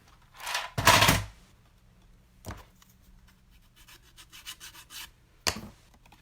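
A paper trimmer slices designer paper for a card with a couple of quick scraping strokes, followed by softer rustles and a final short swipe, close up and with no talking.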